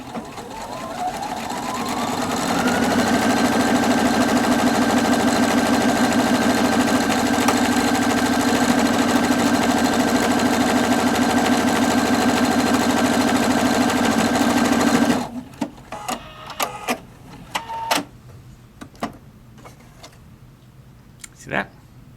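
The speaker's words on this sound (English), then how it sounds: "the machine will feed both columns of the buttonhole in the exact same direction" A Husqvarna Viking Opal 670 sewing machine stitches a buttonhole with a buttonhole tracker foot, running in a loud, fast, steady whir that speeds up early and then stops abruptly, followed by a few clicks and faint handling sounds.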